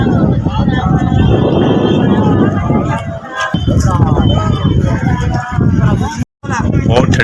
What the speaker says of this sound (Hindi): बहुत ठंडी हवा चल रही है भाई यहाँ पे